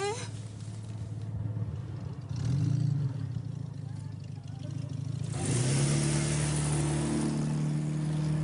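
A car engine idles nearby, then revs up and pulls away, its rising drone growing louder toward the end.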